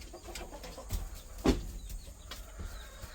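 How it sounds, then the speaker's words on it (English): Farm chickens cluck in short, scattered bursts at close range during morning chores, with a few sharper knocks and rustles between the calls and no talking. "Crazy chickens."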